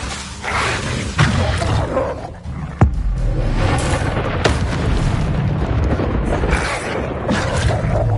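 Levioso spell cast in Hogwarts Legacy, a video game: a sharp magical crack and boom over dense rumbling game effects, loud and close, with a few distinct impacts and no talk.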